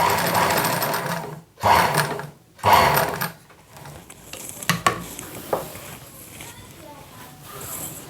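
A sewing machine stitches the fall onto a saree in short close bursts, with gaps and faint handling clicks between runs, while a person talks over part of it.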